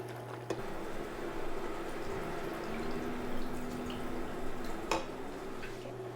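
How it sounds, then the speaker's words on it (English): Water runs steadily into a pot over beef for beef noodle soup, a continuous splashing trickle with a couple of faint clinks. "Now we add water to cover all the meat."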